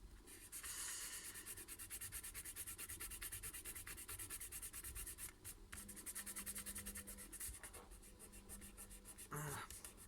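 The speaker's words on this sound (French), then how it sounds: "On appuie sur la deuxième et on vient marquer le pli." Paper cover is creased by rubbing a fold into it by hand, a steady close scraping rub that continues almost without pause, with a brief gap midway and a few faint knocks near the end.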